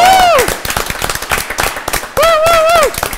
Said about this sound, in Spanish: ¡Un aplauso! ¡Fuerte ese aplauso!